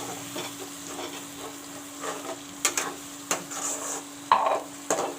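Masala fries in a pan with a soft, continuous sizzle while a utensil stirs it, scraping and tapping against the pan a few times in short clatters.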